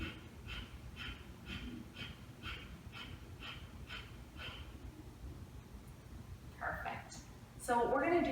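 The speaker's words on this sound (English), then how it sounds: "let's take a big inhale, and then we're going to aim to exhale through the nose." Breath of fire in a vinyasa yoga class, a run of about ten short, forceful nasal exhales in a steady rhythm, close and clear, followed by a few rougher, louder breaths at the end.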